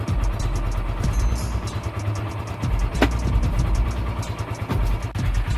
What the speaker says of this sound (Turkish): Motorumuz ısınıyor. Isınmadan yola çıkmıyorum malum.